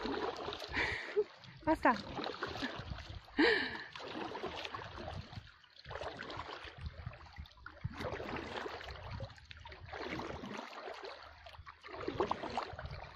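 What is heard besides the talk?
rowing a boat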